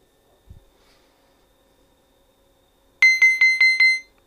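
An LED display timer unit's alarm beeps five times in quick succession through a speaker, sharp and piercing, after a brief faint thump and near silence.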